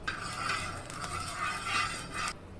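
Oil sizzling in a pan for a bottle gourd dosa, with a steady close crackle and a few faint scraping touches, no talk.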